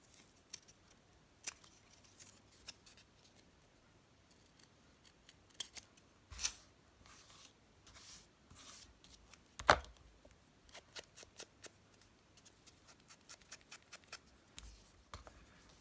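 Scissors snip around the corners of paper pieces being made into junk journal embellishments, giving quiet, sparse cuts with a few sharper clicks scattered through a near-silent craft table setting.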